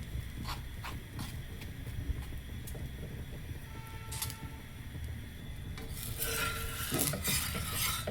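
Oil spread over a paratha cooking on a hot pan, with steady scraping and stirring sounds at close range and a brighter sizzle swelling in the last couple of seconds.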